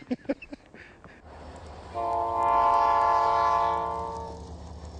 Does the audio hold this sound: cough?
no